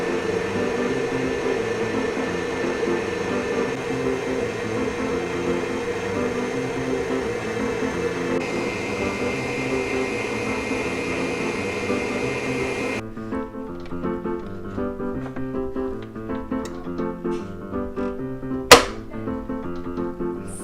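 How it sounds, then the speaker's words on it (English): An electric mixer whips Swiss meringue at medium-high speed with a steady, close motor whir. The drone holds constant for a long stretch, then shifts to a lower, lighter hum, with a single sharp click near the end. "we're going to whip this on medium-high speed until it looks like meringue"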